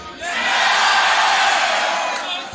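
A live crowd at a beatbox battle showcase erupts in a loud, sustained roar of cheering and whooping lasting a couple of seconds before tapering off.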